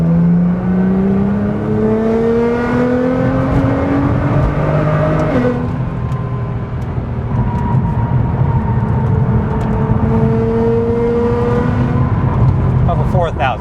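A modified Nissan GTR fitted with an Armytrix exhaust revs loudly and continuously, its engine pitch sweeping up and down through rising and falling pulls, with a raspy edge at higher revs and a voice talking underneath.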